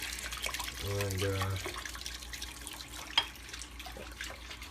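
Faint hot tap water runs into a kitchen sink for washing dishes with dish soap, with a short low hum partway through and a soft knock near the end.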